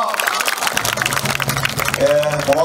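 An audience claps for Tongyeong's mayor as he is invited to give a greeting at a civic event. The applause is a dense, steady wash of many hands throughout, with faint tonal sounds near the end.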